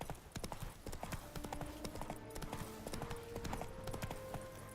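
Hooves of a galloping horse in The Witcher 3 video game pound in a quick, steady clip-clop rhythm, fairly faint and continuous, with faint game sounds in the background.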